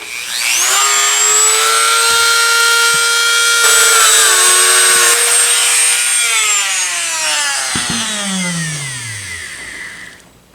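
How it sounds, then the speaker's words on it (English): A Dremel rotary tool fitted with a small wire brush cleans the metal of an N R Davis & Sons 20 gauge double barrel shotgun, a loud, close high-pitched whine that holds steady, dips under load, then winds down. "For the rest of it, I'm going to use this little wire brush on my Dremel."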